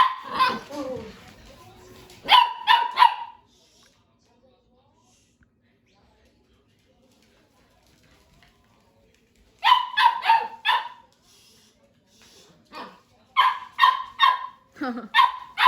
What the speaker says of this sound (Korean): 쟤왜 이렇게 짖지 요즘에?